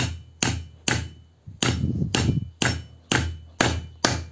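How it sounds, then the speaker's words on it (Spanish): A hammer strikes metal in a steady rhythm, tapping a bearing onto a Nissan Tiida alternator shaft, about eight sharp ringing blows roughly half a second apart, close and loud with no talking. "proceden a dar unos golpes con el martillo para que vaya entrando el valero en el eje"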